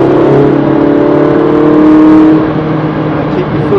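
Race car engine accelerating out of a corner on the wet, drying Brands Hatch Indy circuit, a loud, close, sustained droning roar that holds steady and then eases slightly toward the end.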